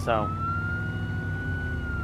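A police car siren in the video game Arma 2 gives a quick rising whoop, then holds a steady wailing tone over a low engine rumble.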